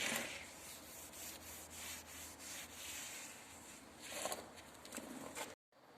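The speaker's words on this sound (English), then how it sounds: "You need to remove the glue that came out of the joints, because later we will fill it up with the joint filler." Dried tile glue is scraped out of the joints of swimming pool tiles, producing steady, rough, repeated scraping strokes, close and moderately loud, with a brief dropout near the end.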